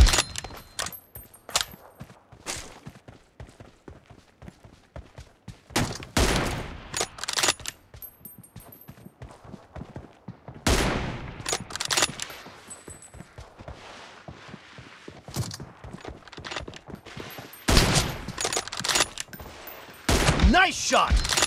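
Gunfire from a first-person shooter team deathmatch with an M24 sniper rifle: sharp, loud bursts and single shots come in irregular clusters, with footsteps and game voice callouts between them.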